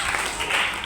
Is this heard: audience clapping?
yes